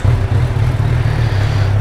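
A motorcycle engine runs loud and close as the rider sets off, giving a steady, low, rumbling drone that holds throughout with no pauses.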